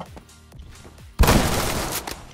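AK-74 rifle fire in Phantom Forces, a few light clicks and taps, then a sudden loud sustained burst of automatic gunfire at close range.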